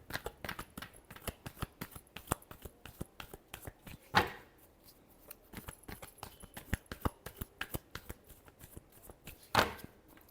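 Tarot cards being shuffled in a fast, irregular run of soft riffling slaps and flicks, close and fairly quiet, with two sharper bridge-like bursts along the way and no talking.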